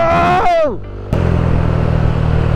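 A motorcycle ride in Cebu: after a brief rising tone, a steady loud engine drone holds close and continuous, with strong wind rush over it.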